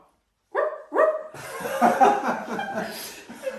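A man imitates a dog with two short, sharp barks, followed by a burst of laughter from several people nearby, all close and indoors.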